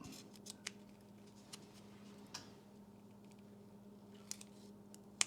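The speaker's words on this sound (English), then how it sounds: "I'm going to take my precision tip scissors and angle my cut" Precision tip scissors snipping fly tying material for a topwater baitfish pattern: a handful of sharp, quiet clicks spaced irregularly over a soft, steady room hum.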